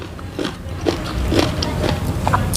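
Crisp, close biting and crunching of kimchi repeats in soft bursts over a low background hum, with no talking.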